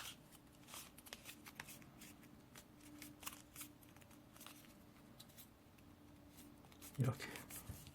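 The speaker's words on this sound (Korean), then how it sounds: "이렇게 반으로 접어주세요." A sheet of paper is folded in half for a paper fighter jet. Soft crinkles and creases sound close by, and a louder crumple comes near the end. Quiet speech plays underneath.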